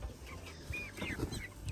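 Sussex hens on an off-grid homestead give a few short, soft clucks with a brief chirp among them, close by against a faint barnyard background.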